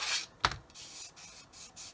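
A coarse sanding stick rubs lightly over filler on a plastic scale model, making a few short, soft rasping strokes in quick succession, close up and alone.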